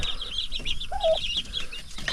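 Backyard chickens cluck softly in short repeated notes, with a brief rising call in the middle over a low background hum.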